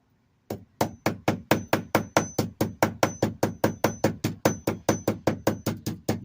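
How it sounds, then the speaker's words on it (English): Rapid, even series of light hammer taps on a metal transmission valve body resting on a body dolly, roughly twenty sharp ringing strikes in a quick steady rhythm, close and clear with no talk. "I'm just lightly tapping this to push the burr back down into the hole."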